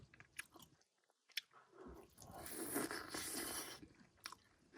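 A sweet-sour snack being chewed up close while camping on frozen valley ice, with soft crunchy bites and a longer stretch of wet, squishy mastication, alone without talk.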